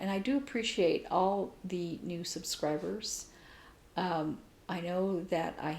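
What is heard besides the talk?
None of the usual background noises is heard.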